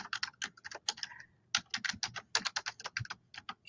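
Fingers type an email address on a computer keyboard in quick, uneven bursts of close, crisp key clicks with a short pause midway.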